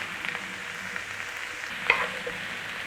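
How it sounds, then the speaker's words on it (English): Salt is being stirred into sausage meat in a bowl, a soft close-up squelching and scraping with a slightly louder smack near the middle. "Nice little stir in there."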